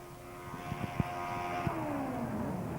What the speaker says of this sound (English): an engine is screaming its guts out as the throttle is jammed wide open